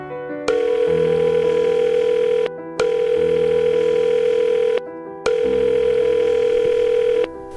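A telephone ringback tone heard while calling someone: three long, loud, steady tonal rings, each about two seconds, separated by short silent gaps in a regular pattern.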